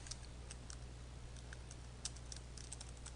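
Steady, quiet typing on a computer keyboard, a run of light, irregular key clicks over a constant low electrical hum, with no talking.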